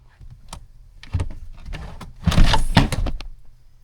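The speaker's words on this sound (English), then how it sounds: "when I fold the seats all the way forward" Rear seats of a Lexus GX470 being folded forward, a series of close clicks, clunks and thuds from the seat mechanism, ending in a louder heavy fabric-and-metal thump with rattling, no talking.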